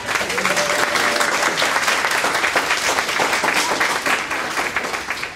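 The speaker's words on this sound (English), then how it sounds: "let's give it a clap" A crowd at a young men's event claps loudly and continuously for a college mentor, a thick, even wash of applause that tapers slightly near the end, with a few faint voices underneath.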